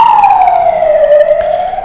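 Ambulance siren passing on a street in Pașcani, Romania, a loud steady wail whose pitch glides slowly downward as it goes by, with no talk over it.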